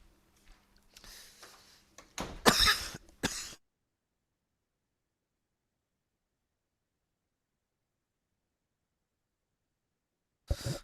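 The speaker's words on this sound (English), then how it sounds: "Coughing in everybody's ear." One person coughs and clears their throat up close in a couple of quick rough bursts, then a long silence follows and a brief faint sound comes at the end.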